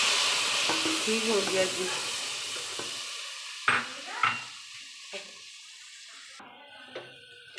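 Spices and a little water sizzle and spit against browned onions in a pan, a steady frying hiss that fades into scattered stirring clicks and pops; a voice speaks briefly.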